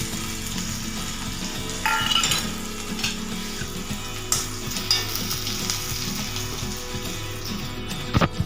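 Chopped onion sizzles hard in hot oil in a pan, with dried chilli and whole cumin already added, frying steadily throughout with occasional clinks and scrapes of stirring.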